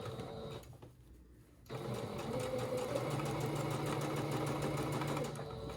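A sewing machine back stitches along a fabric edge during a thrift clothing flip, starting after a brief quiet gap and then running in a steady, close, rapid whirring chatter to the end.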